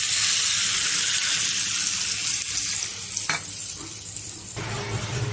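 Spice tempering with sugar, turmeric and red chilli powder sizzles loudly in hot oil before yogurt goes in, a dense steady hiss that drops abruptly midway and again near the end.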